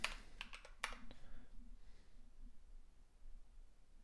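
Computer keyboard keys tapped in a brief cluster of quick clicks near the start, a few sharp close keystrokes while entering a token string, then quiet room hiss.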